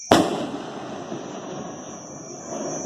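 A firecracker bomb bursts once with a sharp loud bang near the start at a São João bonfire on a rural farm, followed by a lingering crackle and a steady high whine in the background.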